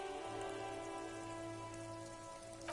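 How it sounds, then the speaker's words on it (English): Rain drips off Eternite-covered roofs along an urban coastline in the video game Disco Elysium, a faint, steady patter over a low ambient drone throughout. "rain dripping off Eternite-covered roofs"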